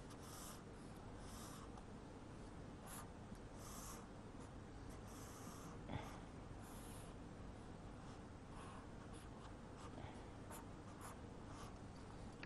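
Marker or chalk drawing strokes on a classroom board during a science lesson about water, steady scratchy scraping with short pauses, fairly faint and close, with no talking.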